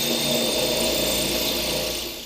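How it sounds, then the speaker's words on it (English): A power drill bores holes, fitted with a wood bit, during a homestead build of a rocket stove and water pump; a loud, steady whirring grind runs unbroken for about two seconds before easing slightly at the end. "Let's drill some holes."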